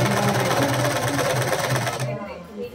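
Sewing machine stitching a saree, a fast continuous rattling hum close up that runs steadily and then slows and stops near the end.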